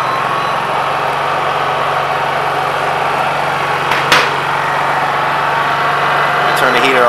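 A Honda EU3000is inverter generator runs loud and steady under the load of a 1500-watt heater, a constant droning hum from start to finish with a few brief clicks.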